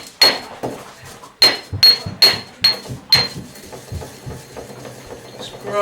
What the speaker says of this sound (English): you'll still get that cracking effect as you're grinding